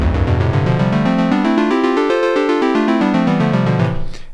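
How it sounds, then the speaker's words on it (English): An Elektron Octatrack plays a synth note sequence whose pitch climbs and then falls again, driven by a triangle-wave LFO. Steady and loud, it fades out at the end, with no talking. "And this makes the notes go up and down and up and down."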